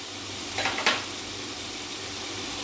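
Garlic ginger paste sizzles while frying in a pan for a dhaba-style bhindi keema, with a steady hiss throughout and a couple of brief bursts of stirring near the start.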